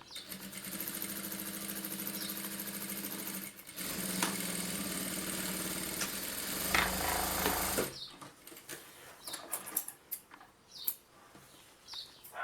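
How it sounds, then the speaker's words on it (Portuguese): A sewing machine runs steadily while stitching a mother-and-baby shoulder bag for a stroller, a dense whirring drone that stops partway through, followed by scattered handling clicks and rustles of fabric. "aqui eu vou costurar"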